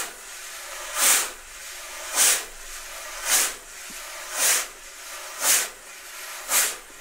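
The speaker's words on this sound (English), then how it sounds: "you can just press a little bit down on the brush to give your swoop kind of the pulse" A wire brush swishing across a jazz drum in a steady pulse, six evenly spaced hissing swoops about once a second, close and clear with no talking, sounding rather like a steam train.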